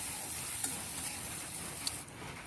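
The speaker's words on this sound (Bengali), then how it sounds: "এখন আমি মাছের জন্য পেঁয়াজ দিয়ে দিলাম। পেঁয়াজটা হালকা করে ভাজে" Onions frying in a pan for a tengra fish curry, giving a steady close sizzling hiss throughout with a couple of brief sharp clinks from stirring.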